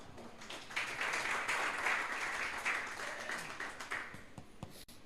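Sustained applause from an audience at a church sermon, a continuous wash of many hands clapping at moderate loudness, with a few sharper taps near the end.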